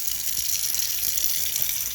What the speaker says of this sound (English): I want to turn some hot water on it.